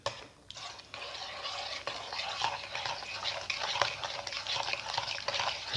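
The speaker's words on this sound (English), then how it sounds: "Mix in the sugar." A spoon stirs sugar into watermelon mango milk, giving a continuous close swishing and clinking of liquid with no voices.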